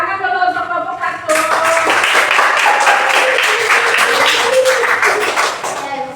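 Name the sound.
applause for group 1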